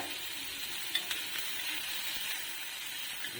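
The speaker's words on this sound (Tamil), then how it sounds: "வெங்காயம் லைட்டாக வதக்கிடுச்சு." Onions softening lightly in a pan for a spicy ragi dish, giving a soft, steady sizzle with faint stirring clicks, fairly quiet and even throughout with no talk.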